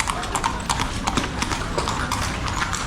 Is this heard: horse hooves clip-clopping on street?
yes